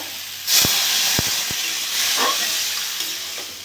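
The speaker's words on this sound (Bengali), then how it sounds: "আমি এবার জল দিয়ে দেবো।" Water poured into a hot pan of tilapia fish, potato and okra curry sets off a loud, sudden burst of steaming hiss that stays broad and continuous, with a few clinks at the start.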